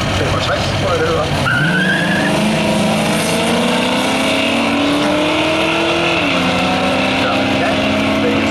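A Ford Mustang race car at a drag race, its engine roaring loud and close with pitch sweeping upward under hard acceleration, accompanied by squealing tire noise throughout.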